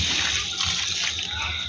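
Water pours steadily from a can onto a drying potted plant in a home garden, a continuous close splashing and trickling with no break.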